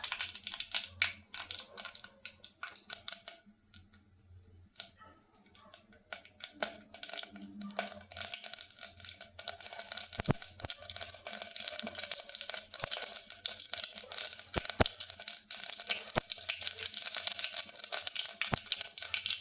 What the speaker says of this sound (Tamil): எண்ணெய் காஞ்சிடுச்சு கடுகு இதை நல்லா பொரியட்டும்